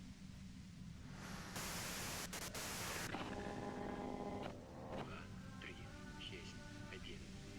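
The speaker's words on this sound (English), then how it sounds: "you can do it through the white noise." A steady, loud wash of static-like white noise in the video game Disco Elysium, swelling for a couple of seconds before quieter tonal sounds and a faint background voice take over.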